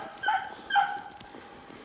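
Two beagles, Ruby and Smokey, on an outdoor hunt give two sharp barks about half a second apart, moderately distant, followed by quieter yips trailing off.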